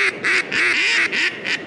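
A two-reed duck call, plastic or wooden, blown to imitate a duck's quack: a loud, close series of raspy, nasal quacks in quick rhythmic bursts.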